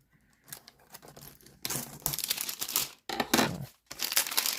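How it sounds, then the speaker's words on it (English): Plastic wrap being cut and pulled off a toy WWE microphone, close crinkling and tearing in several bursts separated by short pauses, loudest in the second half, with no talk. "So it does have this plastic on it. Let's see if we could cut that off of there."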